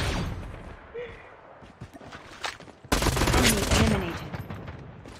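Gunfire bursts in Call of Duty Mobile, scattered shots early followed by a loud sustained volley in the second half, with a voice talking over parts of it.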